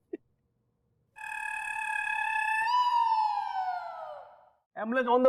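An ambulance siren holds a steady wailing tone, then winds down and fades out, followed by a voice speaking.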